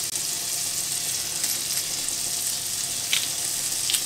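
Butter and garlic sizzle steadily in a frying pan, a dense, even crackle held close throughout with a few brighter pops, no voices over it.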